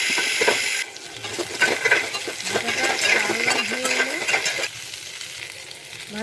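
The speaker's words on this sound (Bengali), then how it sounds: "এবারে তেল গরম করে কড়াইতে পটলগুলো ভালো করে একটু ভেজে নেব" Pointed gourd (parwal) pieces frying in hot oil in a wok, a steady close sizzle broken by metal utensil scrapes and clinks as they are stirred.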